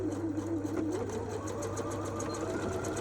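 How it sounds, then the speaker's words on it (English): A sewing machine stitches back and forth across a strap, a fast rhythmic mechanical chatter running steadily and close, with no voices. "secure that in place on the sewing machine by sewing backwards and forwards"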